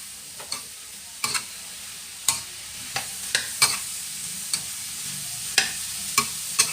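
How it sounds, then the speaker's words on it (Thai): Broccoli and pork belly stir-fried in a hot pan: a steady sizzle with about a dozen sharp scraping strokes from the spatula at an uneven pace, close and alone with no talk. "แล้วก็ผัดบรอกโคลีให้สุกจ้ะ"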